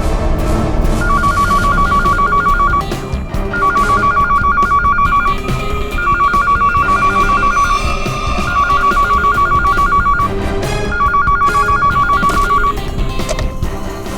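A telephone bell rings in the crime drama CID, with five loud, evenly spaced bursts of ringing repeating over the full stretch.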